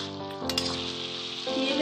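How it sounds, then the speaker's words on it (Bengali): Ridge gourd curry sizzles steadily in a pan over a raised gas flame, a close, loud frying hiss with a brief scrape of stirring near the middle and the sizzle swelling toward the end. "গ্যাসের ফ্লেমটা একটু বাড়িয়ে সব কিছু ভালো করে মিশিয়ে নেব।"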